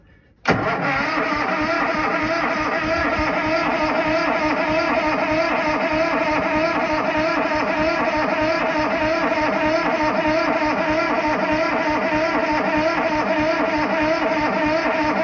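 A snow blower engine starting in 20-degree cold with a weak battery catches abruptly after a brief quiet moment, then runs loud and steady at a rough idle for the rest of the clip.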